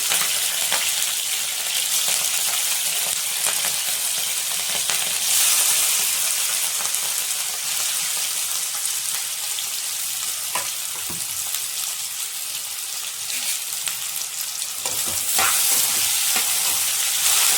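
Aloo rice with cumin seeds and green chillies deep frying in hot oil, giving a steady, loud, dense crackling sizzle that holds through the whole stretch, with a few sharper pops and no talking.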